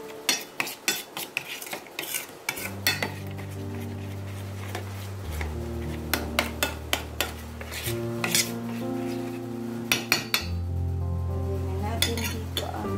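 Batter for maruya, Filipino banana fritters, stirred and mixed in a bowl, with repeated clinks and scrapes of a utensil against the bowl in an uneven rhythm over steady low music.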